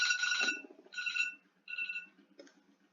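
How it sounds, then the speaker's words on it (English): An alarm goes off indoors in a few bright, ringing bursts separated by short gaps, fairly loud and close, with no one talking over it. "So sorry about the alarm."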